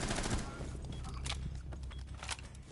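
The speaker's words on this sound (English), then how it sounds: "that was a great wallbang on Squizzy" Rapid automatic gunfire shoots through a wall during a competitive Rainbow Six Siege match, dense continuous bursts with heavy low rumble and intermittent sharp cracks throughout.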